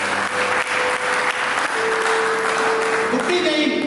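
A church congregation claps together in a steady, loud burst of applause that fills the room, with a sustained tone and some voices mixed in toward the end.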